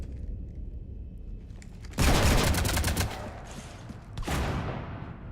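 Gunfire raking a ship in the video game Mass Effect 3: a loud, rapid burst of shots lasting about two seconds, a short pause, then another sustained burst, booming and close.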